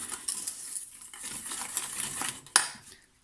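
A spoon stirs yogurt into cream in a bowl while making a yogurt flan, giving soft scraping and clinking with a sharper knock of utensil on bowl near the end.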